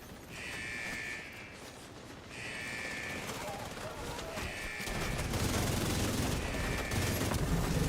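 Rapid, continuous bursts of gunfire in the video game The Division 2 with repeating electronic tones over it, growing denser and louder toward the end.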